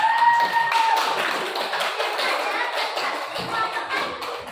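Classroom students clap together for a group of classmates, a dense burst of hand claps that swells at the start and then thins and trails off over several seconds.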